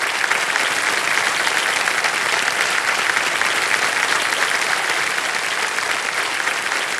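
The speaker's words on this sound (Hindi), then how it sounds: "ताली बजते रहे इनके लिए।" A TV quiz show studio audience applauds a contestant, dense and loud sustained clapping from many hands that holds steady throughout, with no voices over it.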